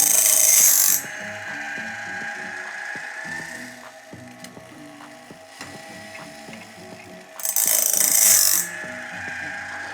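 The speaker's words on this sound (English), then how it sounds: "we are grinding a little bit on the face and a little bit in the gullet as well" Mechanical grinding with rapid ratcheting clicks from an automatic band saw blade sharpener, punctuated by two louder bursts of hissing abrasive grinding on the tooth face and gullet near the start and later on.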